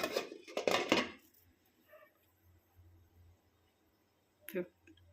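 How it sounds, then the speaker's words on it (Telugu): A plate set down as a lid over a pan of semiya upma, giving a brief metallic clink near the end after a loud clatter of cookware at the start; a voice talks quietly in between. "ఒకసారి అయితే దీని మీద ప్లేట్ పెట్టేసుకుందాం"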